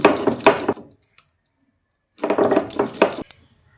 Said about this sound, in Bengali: আর সঙ্গে দুটো কাঁচা লঙ্কা দিয়ে ধনেপাতার লঙ্কাটাকে মিহি করে বেটে নিচ্ছি।